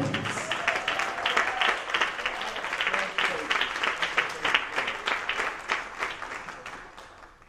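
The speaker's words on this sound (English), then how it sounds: "start clapping right now" Audience at a family conversation event claps and applauds steadily, a dense run of many hands that swells and carries on throughout, with no speech over it.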